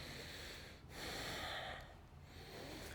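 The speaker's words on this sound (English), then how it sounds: "Long, deep inhalation and exhalation to relax" Long, deep yoga breaths during a power yoga session, a slow airy inhale and exhale each lasting about a second with brief pauses between, close and fairly quiet, with no talking.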